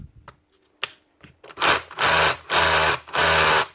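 Makita DHR242 SDS drill slipping in hammer drill mode: a few scattered knocks, then four loud, evenly spaced bursts of harsh grinding rattle, each lasting about half a second, up close with no talk.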